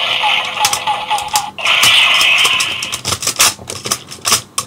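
Rapid clicking and ratcheting of a plastic toy dial spun quickly on a Gokaiger DX Gao Lion toy, followed by a high electronic whirring summoning tone mixed with more clattering clicks.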